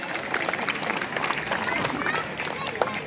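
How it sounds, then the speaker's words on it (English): An audience at a youth dance festival applauds, a dense crackle of many hands clapping with crowd murmur and a voice speaking over it, steady and fairly close. "A big round of applause for you all first."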